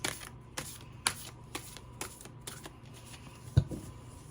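A deck of tarot cards shuffled by hand up close, with a steady run of crisp riffling and flicking bursts roughly every half second and a slightly heavier tap near the end.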